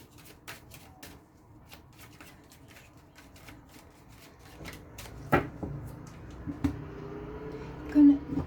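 Oracle cards for a mirror-oracle daily reading being shuffled by hand, a soft papery riffling with scattered light taps and brushes, quiet and close, growing a little busier toward the end.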